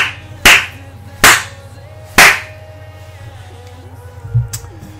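Three loud, sharp hand claps, slow and evenly spaced, from a player during a FIFA 18 session, followed by a fainter tap against a low background hum.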